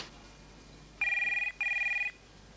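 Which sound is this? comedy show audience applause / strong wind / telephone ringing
telephone ringing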